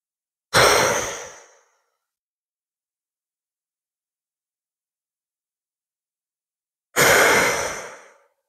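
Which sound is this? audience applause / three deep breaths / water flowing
three deep breaths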